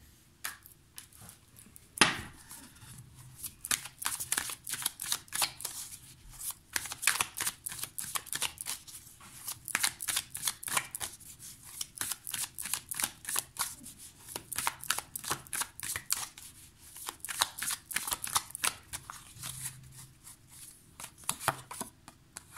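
A romantic tarot deck shuffled by hand, producing dense bursts of crisp card flicks and slaps, close and fairly quiet, pausing briefly and then resuming for a long run.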